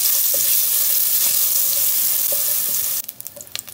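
Garlic paste hissing in hot oil in a pan, a steady loud sizzle that drops away near the end into brief scraping stirs.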